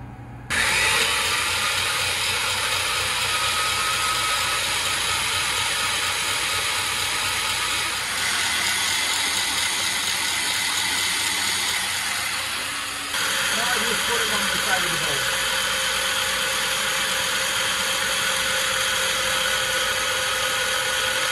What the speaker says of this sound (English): All you're doing is whipping this with the egg yolks with sugar